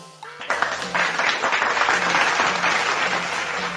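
A live-stream audience breaks into a dense, steady round of applause, close and fairly loud, holding for several seconds.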